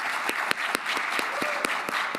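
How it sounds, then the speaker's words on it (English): An audience at a PAX East competitive robotics presentation applauds the students, a steady wash of clapping with sharp individual claps standing out throughout. "I want to give a huge round of applause."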